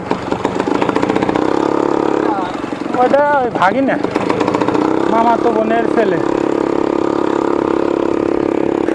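A Kawasaki Ninja motorcycle engine idles with a steady rumbling drone while people talk over it in the foreground.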